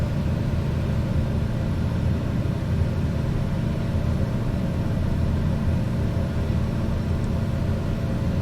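Pilatus PC-12 single-engine turboprop climbing over mountains with flaps up in Microsoft Flight Simulator 2020, a steady, loud, unbroken engine drone heard alone without any talk.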